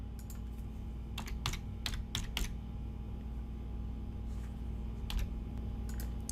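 Typing a file name on a computer keyboard: bursts of close, crisp key clicks in uneven clusters, separated by short pauses, over a steady low room hum.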